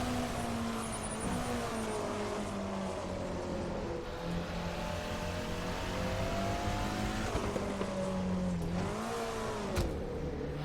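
BMW race car in the Assetto Corsa racing game, engine droning steadily with rising and falling pitch as it accelerates through corners, shifting gears a couple of times, heard alone without talk.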